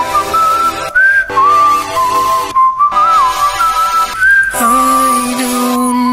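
A whistle solo from a music track plays alone: a clear, loud melodic line of sustained and sliding tones rising and falling over a steady backing, with brief breaks between phrases.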